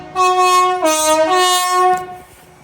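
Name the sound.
train of the 1638 service running in diesel mode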